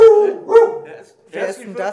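A pet dog greets a visitor on a hilltop near a small village in Namibia with short yips and whimpering barks, close by, mixed with a voice speaking.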